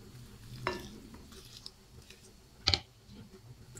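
A spoon scrapes and clinks in a bowl while stirring an activated yeast mixture for eggless bun dough, two distinct close strokes against otherwise quiet kitchen background.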